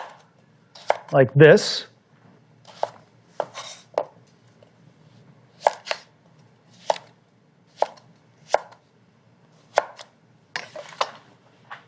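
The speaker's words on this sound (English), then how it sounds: "So I'm going to take them and cut them into basically carrot sticks." A knife chops carrots into sticks on a cutting board, making crisp, close thuds spaced at a regular, unhurried pace, with a short word spoken early on.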